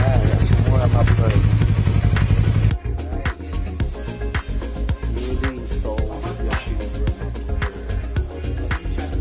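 Yamaha MT-03 motorcycle fitted with a Yoshimura R11 exhaust muffler idles loudly and close, with a steady throb at first that turns into uneven, lumpy revving, while people talk over it.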